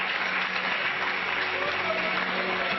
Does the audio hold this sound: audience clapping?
yes